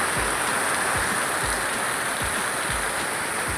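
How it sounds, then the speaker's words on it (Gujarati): Heavy rain pouring down outdoors, a dense, loud, continuous hiss of falling water with a faint low rhythmic thumping underneath, no voices. "જોરદાર વરસાદ ચાલુ છે"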